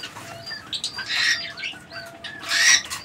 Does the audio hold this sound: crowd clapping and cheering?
no